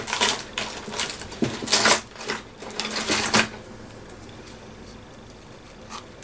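Scissors trimming around a heart shape cut from paper card for a journal card, giving a run of crisp snipping and crunching bursts that fade to a quiet pause, with one small snip near the end.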